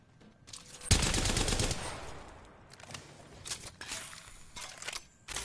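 An energy assault rifle, the Havoc, fires in Apex Legends: a loud sustained automatic burst, then shorter intermittent volleys of shots.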